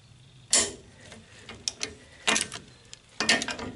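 A torque wrench tightens bolts on the suspension of a Citroën Traction 11B, giving a few separate ratcheting clicks and metallic ticks in quiet short bursts with pauses between.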